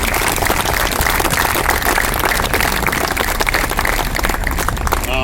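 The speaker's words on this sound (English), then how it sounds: "So I want an extra round of applause for Home Depot" An audience at a veterans' dedication ceremony at an American Legion post in Arlington, Virginia, gives a sustained round of applause, loud, dense clapping from many hands filling the whole clip.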